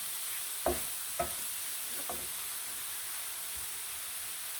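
Shrimp cooks over high heat in a pan, a steady hiss under a few sharp scrapes and taps of stirring.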